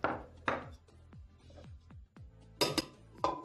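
Metal pan lid lifted and spoon clinking against a pan while spices are stirred for chicken with lentils, a series of sharp close clinks and knocks in an uneven rhythm, with no talk.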